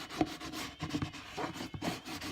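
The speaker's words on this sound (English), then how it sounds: "And then just burnish it down." Container lid on a DIY craft container being burnished down by hand, quiet close rubbing strokes in a quick irregular rhythm for a couple of seconds.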